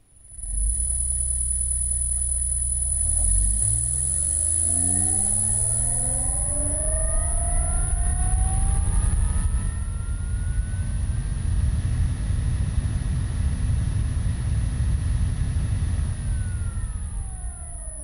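An electric motor driven by an HS127 inverter spins up to 100 Hz, its whine sweeping steadily upward in pitch with a rising hum, then holding a loud, steady high drone for the rest of the run.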